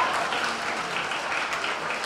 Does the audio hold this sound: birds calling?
no